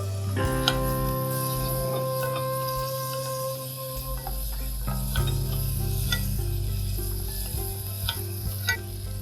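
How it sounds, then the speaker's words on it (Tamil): Chopped onion sautéing in a pan for restaurant-style tomato soup, a steady close sizzle with light stirring scrapes throughout, no voices. "வெங்காயமும் போட்டு வதக்கிக்கலாம்ப்பா ஜஸ்ட் ஒரு சின்ன வெங்காயம் இருந்தால் போதும்"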